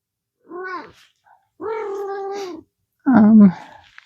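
A house cat gives three drawn-out meows close by, the last one loudest and most strained, with short pauses of silence between them.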